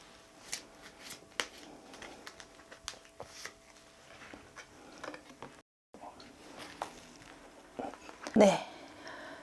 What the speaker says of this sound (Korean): 네, 좋은 카드 뽑아 보겠습니다.